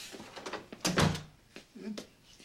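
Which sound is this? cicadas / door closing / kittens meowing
door closing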